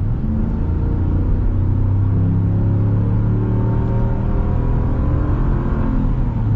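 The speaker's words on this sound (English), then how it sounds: "Smooth, naturally aspirated V8 power." A naturally aspirated Hemi V8 car accelerates with a loud, steady low rumble whose engine tone climbs gradually throughout, heard from inside without any talking.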